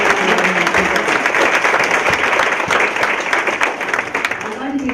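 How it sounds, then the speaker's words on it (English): A large audience bursts into sustained applause for young vocational school students at a Salvation Army event, dense clapping filling the room at steady loudness with some talk underneath. "I think we should give the young people from the vocational school a big round of applause"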